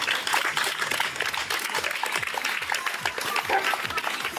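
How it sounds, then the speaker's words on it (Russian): Audience applause around a Golden Retriever club specialty show ring in Kazan: dense, lively clapping from a crowd, sustained and fairly close, with some voices mixed underneath. "Аплодисменты."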